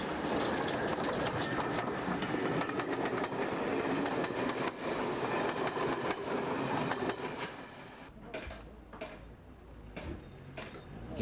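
A train runs on a railway branch line near a level crossing to Minehead, a loud rumble with rhythmic rail clatter that fades after about eight seconds into quieter clicks.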